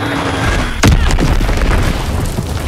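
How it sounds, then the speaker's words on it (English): A loud enemy bomb explosion in a WWII video game, a sudden heavy boom followed by rumbling debris and continuing battle noise. "Enemy bomb incoming!"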